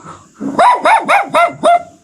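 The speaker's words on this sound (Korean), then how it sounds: "짖는다는 건 겁먹는 거야" A dog barks five times in a quick, steady run, loud and close, with no talk over it, on a mountain road in Colombia's Andes.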